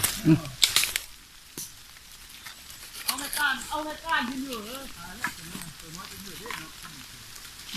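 Food sizzles steadily in hot oil, with stirring and scraping near the start, while a voice talks over the frying for most of the clip.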